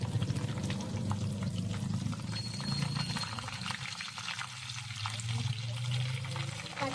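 Chopped onions and green chillies fry in oil for Nellore fish pulusu, making a soft, steady sizzle with a faint bubbling hiss at close range, heard alongside a low hum.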